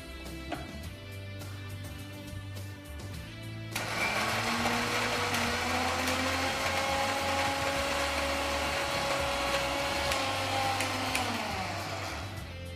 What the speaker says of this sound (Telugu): ఇప్పుడు మిక్సీలో వేయాలి